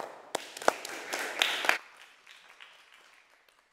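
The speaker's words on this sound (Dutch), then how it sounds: "Applaus." Audience applause at the El Hizjra literature prize event in 2020, a dense burst of clapping with a few sharp claps that swells in the first two seconds, then thins and fades out.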